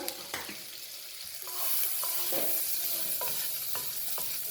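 Chopped garlic and a green chili fry in a pan for lemon coriander soup, a bright sizzle swelling louder partway through, with close scrapes and taps from stirring and no voices.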